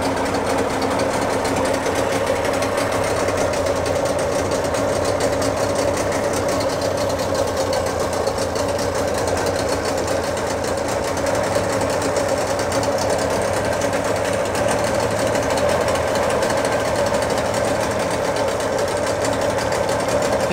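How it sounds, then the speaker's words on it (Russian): A Suzuki DT40 outboard boat motor idles steadily while warming up, with slightly noisy bearings and an overflowing carburetor, giving a continuous close, buzzing mechanical drone with a fine rapid ticking texture and no talking. "Даем прогреться. Шумят подшипники немного."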